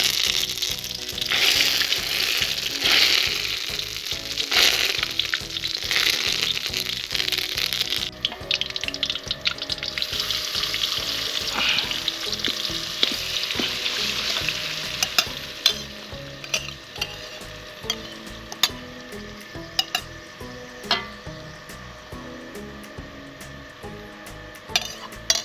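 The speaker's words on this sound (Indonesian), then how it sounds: "Terus masukkan bawang, masukkan daun temurui," Onions and curry leaves fry in hot oil for Aceh chicken curry, giving a loud, steady sizzle with a utensil scraping and stirring through the pan throughout, and the occasional clink of metal.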